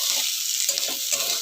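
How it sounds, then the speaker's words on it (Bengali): Capsicum frying in a pan for homemade egg chow mein, giving a steady hiss with the scrape of stirring breaking through now and then. "আমি ক্যাপসিকাম দিয়ে দেবো, একই রকমভাবে আমি এটাও ভেজে নেব।"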